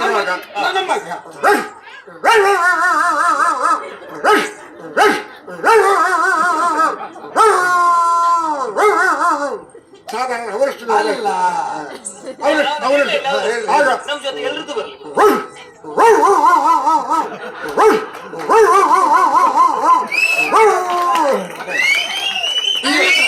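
A voice mimics a dog, running through barks, yips and drawn-out howls in quick succession, loud and close.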